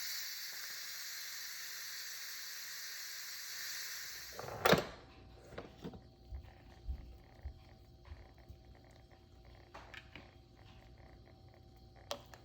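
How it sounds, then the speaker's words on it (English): Steam hisses loudly as pressure is released from a crockpot cooking chicken pulao, a broad steady rush that cuts off abruptly, followed by quieter clicks, taps and faint background noise. "Release the steam."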